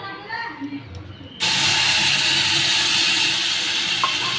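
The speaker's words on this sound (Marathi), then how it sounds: "आता यामध्ये आपण दूध टाकून घेऊया." Milk poured into hot roasted semolina with cardamom sets off a sudden loud, sustained hiss and sizzle that starts abruptly after a quieter moment of faint kitchen noise and holds steady to the end.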